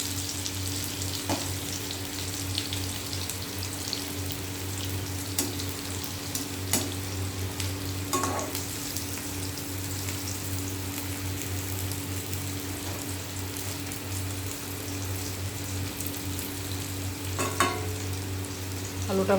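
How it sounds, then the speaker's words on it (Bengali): Potatoes frying with a little turmeric in a pan, a continuous sizzle under repeated scraping stirs and clinks of a spatula, steady and close with no talk. "আলুটা প্রায় ভাজা হয়েই এসছে"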